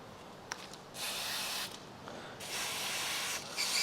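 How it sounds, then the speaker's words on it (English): Brake cleaner sprays in several short, hissing bursts onto a new head bolt insert during a Kia/Hyundai head bolt repair, with quiet pauses between the blasts and no voices. "we want to give that a good wash off with brake clean as well"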